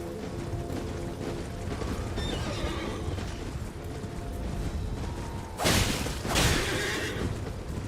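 A horse in the Elden Ring video game whinnies amid mechanical creaks and hoof clops, followed by two loud bursts of impact noise near the end, no talk.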